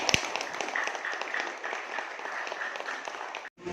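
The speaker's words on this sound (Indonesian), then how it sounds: "Ya, tepuk tangan semuanya." Students in a junior high school classroom in Brebes, Indonesia clap together in a steady, moderately loud round of applause during a lesson, with a faint voice in the background.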